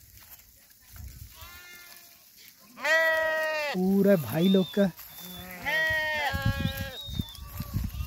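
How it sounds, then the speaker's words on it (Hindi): Sheep bleat repeatedly at a Rabari herders' camp among long-tailed sheep, with several loud, wavering calls overlapping in bursts from close by while someone talks over them. "देखिए क्या भेड़े हैं"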